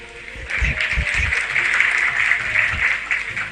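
A crowd claps through a religious discourse by a Jain monk, steady applause that holds for a few seconds at moderate volume, with a faint voice underneath.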